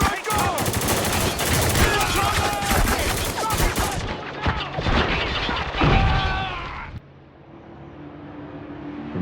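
Gunfire in a firefight in the video game Spec Ops: The Line: dense overlapping automatic bursts and booms, loud and continuous, easing off before cutting to a quieter hiss near the end.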